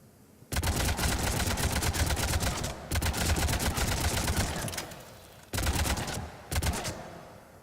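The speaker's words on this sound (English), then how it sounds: "I'm going to use the shooting range." Rapid automatic gunfire at a shooting range in the video game Mass Effect 3, loud sustained bursts of shots with brief pauses between them, no talking.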